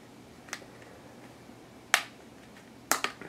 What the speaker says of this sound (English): If you peel off the back, which is a slightly scary thing because it sounds like it's going to break